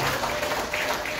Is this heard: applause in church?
yes